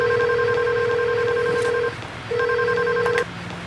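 A telephone call being placed rings out as repeated electronic ringback tones, two long buzzing bursts separated by a short gap, close and clear over a faint room hum.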